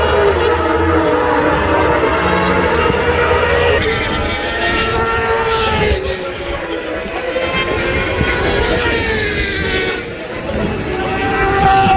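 Racing motorcycles roar past trackside during the Daytona 200, a loud continuous engine drone with rising and falling pitch sweeps as bikes pass close by, some commentary voice faintly underneath.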